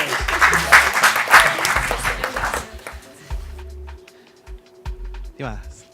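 An audience in a school debate-style competition claps for a few seconds, loud at first and then thinning out, with a voice speaking over and after the applause.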